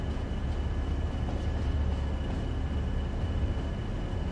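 A BR heavy freight train in Train Sim World 2 gives a steady, low, droning rumble that holds evenly throughout, with no other sounds over it.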